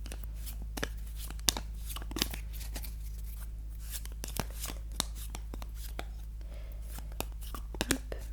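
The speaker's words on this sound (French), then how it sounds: "je vais prendre des petites cartes cartonnées comme ça. Je vais les mélanger un tout petit peu." Small cardboard cards shuffled lightly by hand at close range, a string of soft crisp flicks and rustles with a few sharper snaps, quiet and intimate with no talking.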